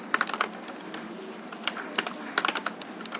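Fingers type on a computer keyboard, close and fairly quiet, with quick irregular clusters of key clicks and short pauses.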